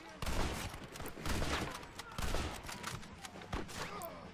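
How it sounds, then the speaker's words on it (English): Sniper rifle shots in Red Dead Redemption ring out as a few sharp, spaced cracks over a rumbling game background, fairly close but moderate in level. "especially with the first sniper rifle you get in the game, as I shoot him"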